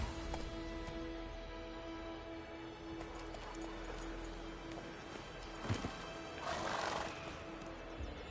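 Roach, a horse in the video game The Witcher 3, whinnies and trots near White Orchard, with soft hoof clip-clops over a low ambient game backdrop and a louder neigh toward the end.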